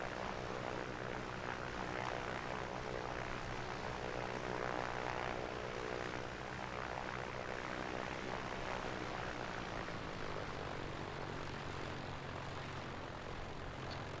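A Piper Comanche's propeller engine droning steadily in flight in the A2A flight simulator, a continuous loud hum with a low harmonic buzz that shifts slightly in pitch partway through.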